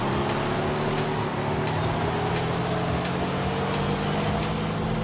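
Race car engines roar in the video game Forza Horizon 5, a dense continuous drone of several cars accelerating together at steady high volume.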